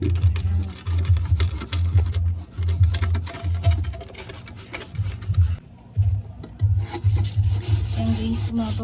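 Rough, rhythmic scraping of cement-like mineral deposits and water marks off aquarium tank glass, with repeated close, loud back-and-forth strokes and a brief pause partway through.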